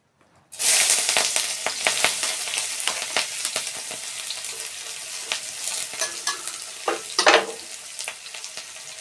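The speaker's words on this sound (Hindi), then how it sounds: "तो मैं अब इसमें डाल देती हूँ अपने ये चॉप किए हुए अपने प्याज।" Chopped onions hit hot oil in a pan for a mountain-style sakina vegetable dish and sizzle loudly right away, with a steady frying hiss and scraping stirs of a spoon throughout.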